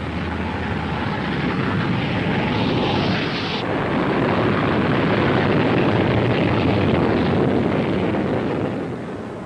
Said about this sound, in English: On becoming airborne, the undercarriage was jettisoned, and the aircraft demonstrated an amazing rate of climb.